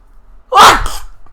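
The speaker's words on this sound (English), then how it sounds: "am I about to sneeze?" A single sharp human sneeze, close and loud, bursts out after a brief quiet moment and then trails off into a short breathy tail.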